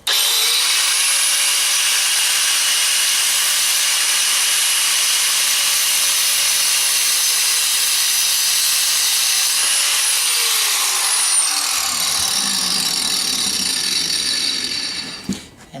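A power tool cuts through an airstone, a loud steady high-pitched whine and grinding that holds for a long stretch, then changes pitch and winds down at the end.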